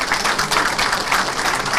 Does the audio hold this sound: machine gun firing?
no